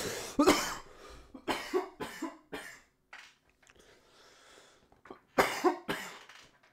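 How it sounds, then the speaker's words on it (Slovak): A person coughs in several sharp, loud bursts spread across the clip, with short pauses and a few throat-clearing sounds between fits; no speech. "kašľacia chvíľa prišla"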